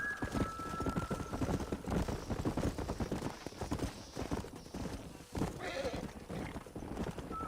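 Horse hooves clip-clop in a steady rhythm in the video game Red Dead Redemption, with a whinny breaking through, fairly close and clear.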